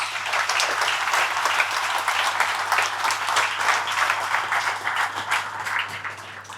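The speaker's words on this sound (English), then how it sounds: "Big round of applause for both those groups." A room at a monthly company meeting breaks into sustained applause, many hands clapping at moderate distance in a steady, even wash with a faint electrical hum beneath.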